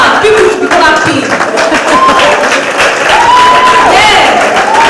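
At a live open-source community conference session, an audience applauds and cheers for an arriving keynote speaker, loud crowd clapping running under speech and voices throughout.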